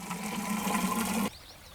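Water running from a tap in the video game Garden Simulator while plants are watered, a steady loud gushing with a low hum that stops abruptly partway through, leaving a quiet tail.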